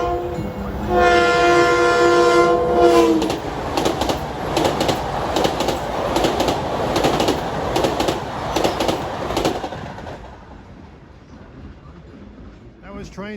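A Long Island Rail Road train sounds a loud sustained horn at the New Hyde Park Road crossing, then rumbles and clatters past close by for several seconds before fading.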